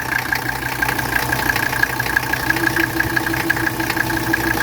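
A 1985 wagon's 617 diesel engine idles steadily and close, with a continuous even clatter and a low rhythmic knock running the whole time, no voices over it.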